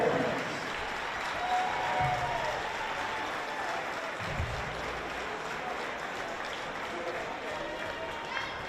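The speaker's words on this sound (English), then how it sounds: "big round of applause" A large crowd applauds steadily for the St. Mary's Hall Bears boys basketball team at a 6A semifinal game, the broad, sustained clapping and cheering running throughout with some voices mixed in.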